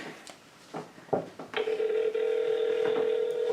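Telephone being dialed to place a call: a few short keypad beeps, then a steady, loud sustained tone holding for a couple of seconds with no talking.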